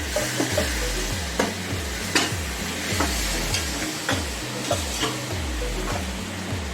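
A spoon stirs semolina halwa in a pan as syrup is added, rhythmic scraping strokes repeating roughly twice a second over a low sizzle, close and steady with no voices.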